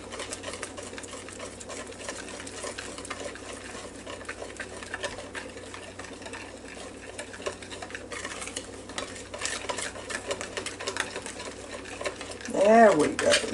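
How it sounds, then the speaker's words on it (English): Peach cobbler batter with cinnamon stirred by hand in a bowl, soft continuous scraping and swishing as lumps are worked out, faint throughout, with a brief louder clatter near the end. "Alright, we're going to get it stirred up."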